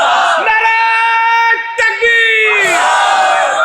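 A large crowd at a Bengali Islamic waz gathering shouts a religious slogan in unison, loud bursts of massed voices separated by brief pauses, with a lead voice calling between responses.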